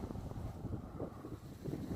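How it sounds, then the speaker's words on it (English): A strong gust of wind buffets the microphone at an allotment garden during winter bed preparation, a continuous low rushing roar that holds steady and fairly loud with no one speaking. "we just had a tremendous gust of wind, nearly blew me over"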